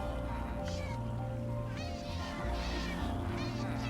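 Cats meow in Minecraft as they are swept through an iron farm's water chutes, a few short rising cries over a steady droning background.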